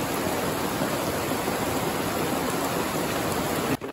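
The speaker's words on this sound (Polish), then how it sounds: "Jak płynie strumień." Rushing water of a stream swollen by a downpour during a storm near an old log house, a steady dense broadband wash, close and loud throughout, no voices.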